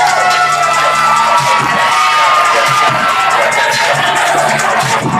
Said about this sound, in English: That crowd was hyped.